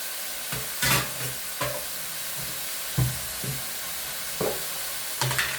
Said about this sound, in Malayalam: നമുക്ക് കുക്കറിൻ്റെ അകത്ത് ലേശം മഞ്ഞൾപ്പൊടി ഇട്ട് ലേശം ഉപ്പും കൂടി ഇട്ട് നമുക്ക് വാട്ടാൻ വെക്കാം